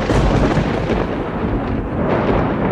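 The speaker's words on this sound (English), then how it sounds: "For sound effects, I search for weather like thunder and lightning to match my intro shot." A thunder sound effect rolls as a dense, loud, low rumble that swells and sustains for a few seconds without a break.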